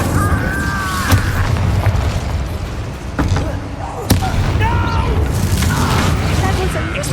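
Incendio fire spell in Hogwarts Legacy, a dense loud combat mix of fiery blasts and sharp cracks, with a few sudden booming impacts and character voices mixed through it.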